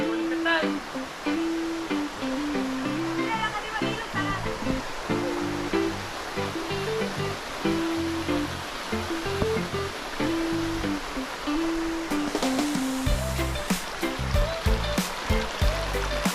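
Waterfall and stream at Busay Falls in Bani, Pangasinan, flowing steadily as a broad, continuous rush of water close by, with music and a voice over it throughout.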